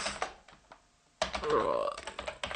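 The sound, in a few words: typing a command on a computer keyboard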